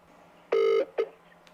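Telephone dialing on a call: one longer steady electronic tone followed by a short second tone and a faint click, close and clean with no voices.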